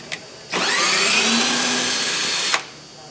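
A power drill runs a screw into an AquaCiser window, whirring loudly and steadily for about two seconds between short clicks, close up with no talking.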